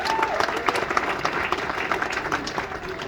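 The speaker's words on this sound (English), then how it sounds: "Give yourselves a big round of applause for coming out tonight." Audience applause in a comedy club, the Harrisburg Comedy Zone, a dense steady patter of many hands clapping throughout with faint crowd murmur underneath.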